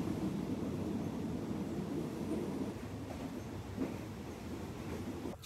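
An overnight train to Bangkok rumbles steadily along the rails with a dense, loud roar of wheels and carriage noise, faint clicks and rattles running through it and no voices.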